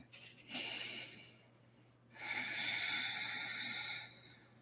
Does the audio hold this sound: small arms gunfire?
no